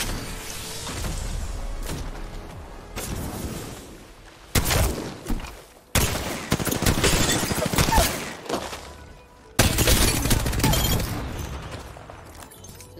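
Gunfire from the video game Apex Legends crackles in rapid bursts and volleys, with loud cracks separated by brief lulls and sudden sharp onsets throughout.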